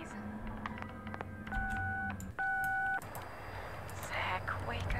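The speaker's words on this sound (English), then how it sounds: "Answer the phone." Touch-tone phone dialing in a video game: a quick run of separate keypad beeps followed by longer steady dual tones, with background music and a voice murmuring underneath.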